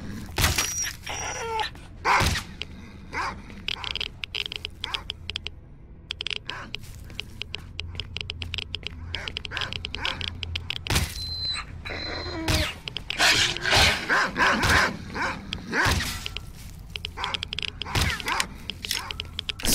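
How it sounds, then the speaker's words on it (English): Dogs in the STALKER: Shadow of Chernobyl game barking and whimpering in repeated sharp bursts throughout, mixed with scuffling and other busy game noise. "Fucking dogs, man."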